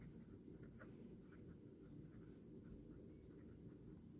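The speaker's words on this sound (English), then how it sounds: "so I'm going to try the calligraphy pen on this type of paper first." A calligraphy pen, running slightly dry, scratches steadily across paper at close range, a soft continuous writing rustle with faint strokes and no talking.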